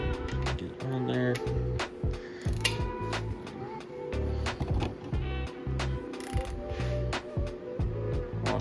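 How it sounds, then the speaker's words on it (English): Ratcheting clicks of a torque wrench set to 18 foot-pounds tightening bolts on an LS 5.3 engine rotating assembly, rapid repeated mechanical clicks in bursts, close, with people talking over them. "Torque wrench is set at 18 foot-pounds."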